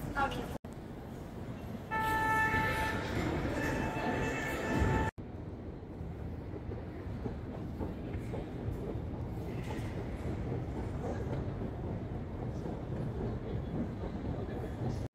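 A metro train rumbles steadily, with a brief high whine of the motors early on before settling into continuous track noise and rattling.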